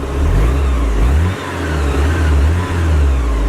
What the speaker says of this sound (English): So, let's give it a rev or two.